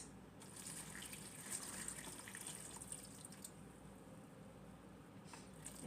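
Liquid pours steadily into a container in a kitchen during meal prep for the grill, a continuous close splashing trickle that runs throughout with no talk.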